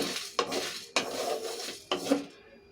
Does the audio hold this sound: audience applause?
no